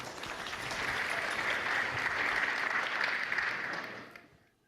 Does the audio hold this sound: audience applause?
yes